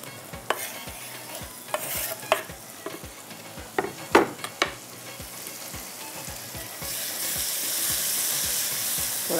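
Tomatoes with masala and ginger-garlic frying in a pan, with rhythmic scraping stirs and sharp utensil clicks, then a louder, steadier sizzle that swells in the last few seconds.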